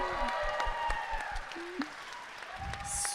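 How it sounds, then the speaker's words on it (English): Audience applause at a live high school youth event, soft and fairly distant, with scattered claps under faint crowd voices and a few whoops, continuing steadily for about three seconds. "Give her a round of applause."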